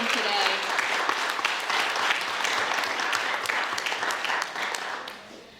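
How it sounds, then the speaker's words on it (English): An audience at a writers' nonfiction short story contest ceremony applauds, dense steady clapping that fades out near the end, with talk faintly underneath. "Let's give one more round of applause for all of those that made it possible"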